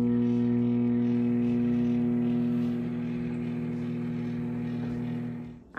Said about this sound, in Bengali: এবার এটিকে আমি মাইক্রোওয়েভে দিয়ে দেব।